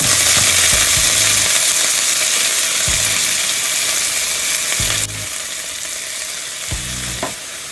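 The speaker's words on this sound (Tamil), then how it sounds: "கீரையை நல்லா வதக்கணும்" Chopped spinach greens are sautéed in a pan with mustard seeds, fennel, curry leaves and garlic, giving a loud, constant sizzle broken by repeated scraping spatula strokes.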